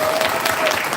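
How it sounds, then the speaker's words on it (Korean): An audience claps for the steering committee at a vision concert lecture, a dense, steady burst of applause filling the room evenly for its full second with no voices over it. "우리 운영위원님들 위해서 박수 한번 쳐드리고 싶습니다."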